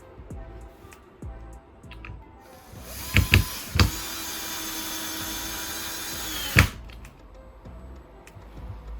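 A power screwdriver drives screws through gypsum board into a metal drywall profile on a double-layer wall lining, with one sustained whirring run of about three and a half seconds framed by a few short bursts and clicks, close by.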